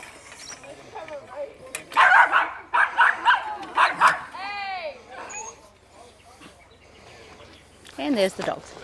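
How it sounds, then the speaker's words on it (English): Dogs bark in several quick bursts, nearby and loud, mixed with whines and a yip, while a person talks in between. "And there's the dogs."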